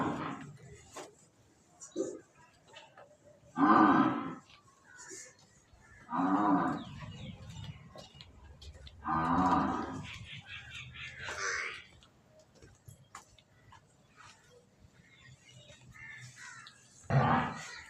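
A buffalo calf on a Pakistani farm moos repeatedly, with several long, loud calls spaced a few seconds apart. Crows caw faintly in the background and a person talks quietly now and then.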